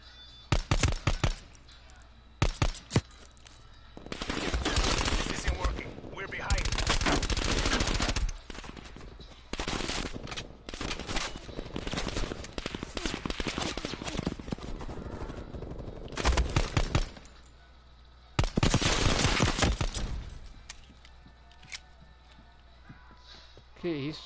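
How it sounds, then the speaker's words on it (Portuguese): Bursts of automatic gunfire and rapid shots in Call of Duty Black Ops Cold War come in dense, loud volleys separated by short quieter gaps, with a player talking over parts of it. "Que isso, mano, tiro de tudo que é lado."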